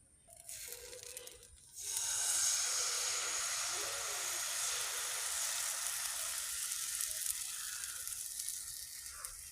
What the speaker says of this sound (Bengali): যে তেল দিয়ে পুরো গরম করে নিয়েছি এবারে দিয়ে দিব গোলাটা